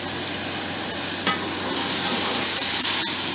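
Puree from 500 g of tomatoes sizzles loudly as it hits browned chicken frying in oil for a chicken egg biryani, a continuous close hiss broken by a brief clunk of stirring.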